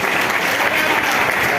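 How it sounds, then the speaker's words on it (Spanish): Church congregation applauding together, a steady dense wash of many hands clapping at close range that holds evenly throughout with no voices over it. "Den un aplauso al Señor."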